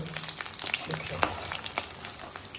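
Tilkor (ivy gourd) leaf fritters fry in hot oil in a Mithila kitchen, giving a close, continuous sizzle studded with sharp popping crackles.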